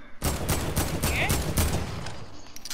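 Rapid bursts of video game gunfire rattle in a dense volley, loud and close, with voices talking over and between the shots.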